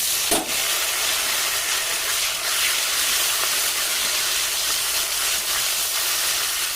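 Chopped tomatoes hit hot oil with fried onions and set off a loud, continuous sizzling hiss that starts with a sharp burst and stays steady and close throughout.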